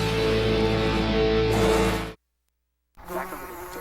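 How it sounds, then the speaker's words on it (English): A big bee buzzes loudly and steadily up close in a television commercial, then the sound cuts out to silence, and a quieter buzzing scene follows. "Dad, a big giant bee! Get it!"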